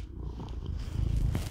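A cat purrs close by, a steady low rumbling with a rhythmic pulse that continues throughout, with faint rustling and no speech.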